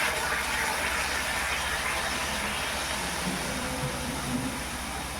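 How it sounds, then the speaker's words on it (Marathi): Water pours steadily into a cooking pot with a continuous rushing, gushing hiss that stays even and fairly loud throughout, with no talking. "टोपात मी पाणी टाकते"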